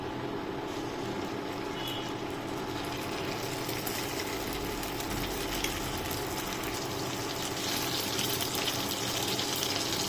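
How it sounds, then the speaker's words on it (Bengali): Marinated chicken pieces fry in hot oil in a wok for chili chicken, making a dense, continuous loud sizzle that holds steady throughout, close by and with no voices. "1 ঘন্টা ম্যারিনেট করা মাংস এবার এক পিস করে দিয়ে দিব।"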